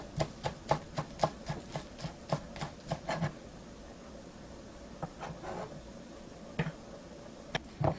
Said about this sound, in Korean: 실파는 송송 썰어서 준비해 주시고요.